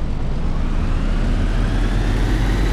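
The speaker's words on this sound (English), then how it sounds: "Hear that engine." A 1992 Mercedes-Benz O405GN articulated bus in the OMSI 2 simulator runs its old engine with a loud, dense, steady low rumble and no break or voice over it.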